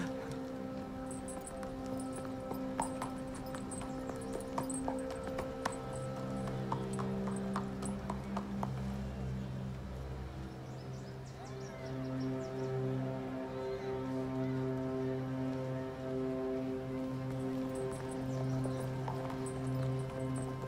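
Horse hooves clip-clopping in a Song dynasty period drama: a steady, moderately close run of hoof beats under background music, with no talking.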